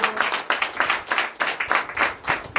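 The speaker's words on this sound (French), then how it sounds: "Donnez encore l'acclamation." A church congregation claps rhythmically in steady bursts during a worship service, the sharp hand claps repeating over a few seconds with no talk on top.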